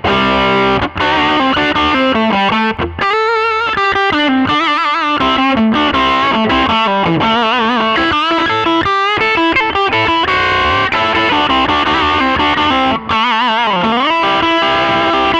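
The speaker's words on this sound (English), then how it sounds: "let you hear some of the distorted tones and clean tones" A Fender '72 Telecaster Deluxe electric guitar plays distorted tones, with sustained chords and busy single-note runs. It is loud and continuous, runs the full length and stands alone with no voices.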